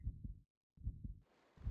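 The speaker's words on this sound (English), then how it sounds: "My heartbeat." Slow, deep heartbeat thuds in a Japanese horror video game, a double-thump pulse repeating near and loud, with a short silent gap and a faint hiss at the end.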